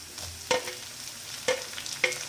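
Onion and tomato sautéing in a pan give a soft, low sizzle broken by three sharp spatula scrapes or knocks at roughly even intervals, close and fairly quiet.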